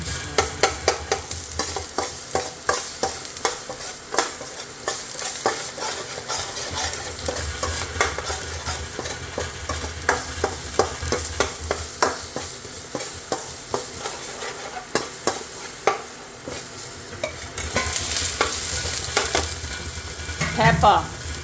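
Squid and garlic stir-fried in a wok, a steady loud sizzle broken by frequent sharp scrapes and clatters of a spatula against the pan, running continuously with a brief hiss surge near the end.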